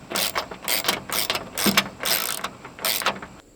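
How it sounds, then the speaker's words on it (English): Socket wrench ratchet clicking in repeated bursts while tightening nylon locking nuts on the mount of a QCell 400 W solar panel, close and fairly loud, with no talk. "Just going to use a wrench and a socket set to get this tightened down."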